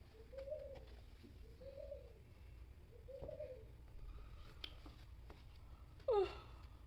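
Pigeons or doves coo softly outdoors in a few repeated rounds over quiet background hum, with a brief sharper bird call near the end and no talking.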